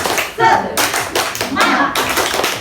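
A group of adults and children claps the Indonesian 'tepuk semangat' spirit clap in a kindergarten setting, with loud rhythmic bursts of several hand claps in patterned groups and a short pause partway through.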